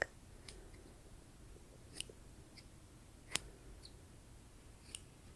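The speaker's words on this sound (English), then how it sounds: "I'm not cutting anything, just wiggling around the scissors, just wiggling and snipping" Metal scissors wiggle and snip in the air without cutting anything, soft close clicks with a few sharper snips spaced irregularly over quiet background hiss, ASMR style.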